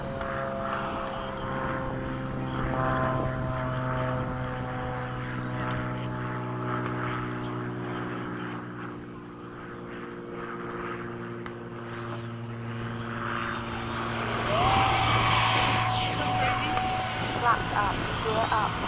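FMS 70mm F/A-18 model electric ducted-fan jet flying a touch and go at a flying field, a continuous whining fan drone that fades slightly then swells louder as it passes near, with a person talking over it.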